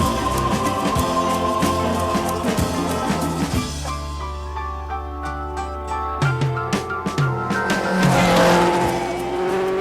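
A Lotus 49 Formula One racing car driven on a circuit, its engine revving loudly and climbing through gears with sharp tyre squeal and skidding, close and continuous throughout.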